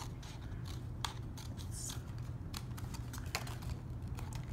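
Scissors snip off the excess material while making a DIY treat bag, giving a series of crisp, close clicks and short cuts over a steady low background hum.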